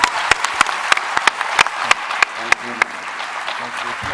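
Audience applause at TwitchCon, a dense burst of clapping with sharp individual claps standing out, loud and close, fading toward the end as a few voices start talking.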